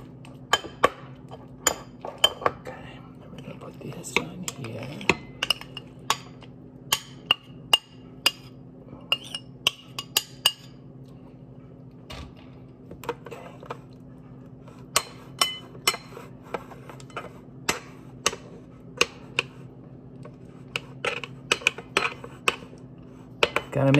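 A utensil clinks against a dish while hard dry pet food is mixed in, with irregular sharp metallic taps and scrapes over a faint hum throughout.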